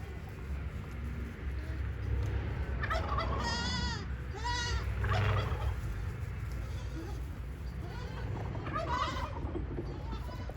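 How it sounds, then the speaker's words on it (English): Turkeys gobble in a few warbling bursts at close range, with bleating goats and low rumbling background noise in between. "You see the turkeys."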